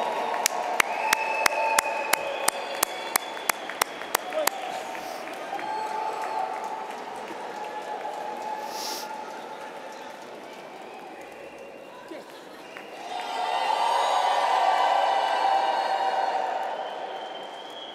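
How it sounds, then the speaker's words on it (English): Applause for graduates at a university graduation and awarding ceremony: a few sharp taps, then a large hall crowd claps steadily, swelling louder near the end. "Big applause for all graduates"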